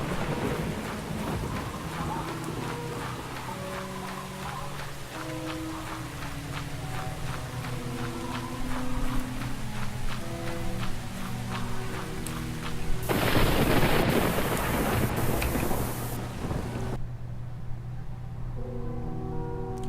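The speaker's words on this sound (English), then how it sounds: "Having a thunderstorm out here." Steady rain with rolling thunder in a thunderstorm on a planet in the video game Star Explorers, a continuous wash of rainfall with low rumbles throughout and a loud burst of thunder near the end.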